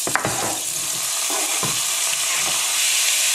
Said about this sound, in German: Zwiebeln kommen jetzt einmal rein. Und das Fleisch dazu.